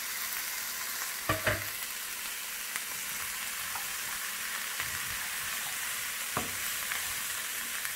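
Asparagus and zucchini frying in a pan give off a constant soft sizzle, with a few clacks of the stirring utensil scattered through it.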